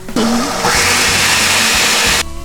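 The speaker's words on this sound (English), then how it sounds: "I have all the dry ingredients in here and I'm just gonna blend them up" A blender whirs loudly as it grinds dry protein pancake ingredients. The motor kicks on abruptly, rises to a steady high-pitched roar for about two seconds, then cuts off sharply, with no talking.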